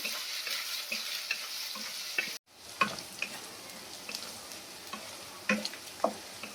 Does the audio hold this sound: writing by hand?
no